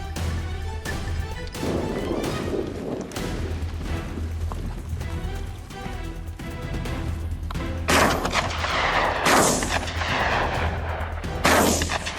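Repeated loud gunshots crack and boom outdoors during a wild boar hunt, irregular bursts amid rustling and movement, with a few especially sharp blasts near the end.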